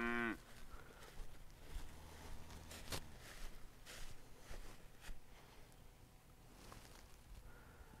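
Cattle moo several times over a quiet outdoor background, with soft rustling and a few footsteps nearby.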